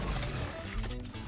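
Gun being reloaded in the shooter game Bloodstrike, a short run of close mechanical clicks and ratcheting over a dense game soundscape.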